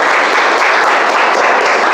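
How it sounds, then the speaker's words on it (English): Dense, steady applause fills the room at a Toastmasters meeting, loud and continuous throughout with no pause. "Let's give a good round of applause to them."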